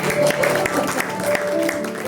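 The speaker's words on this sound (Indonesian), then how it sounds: "tepuk tangan dulu ya" A church congregation gives a round of applause to welcome new members during a Sunday service, steady clapping throughout with voices faintly mixed in.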